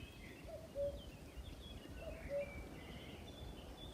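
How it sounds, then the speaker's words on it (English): A common cuckoo calls twice, faint and distant, its two-note calls spaced about a second and a half apart over a quiet outdoor background with soft rustling and other faint bird chirps, no talking. "I wanted you to hear the cuckoo."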